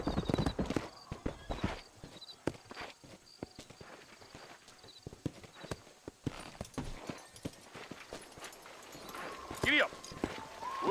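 Horse hooves clip-clop steadily along in the Red Dead Redemption video game, a brisk, close rhythm of hoofbeats under a character's voice, with a brief tonal call near the end.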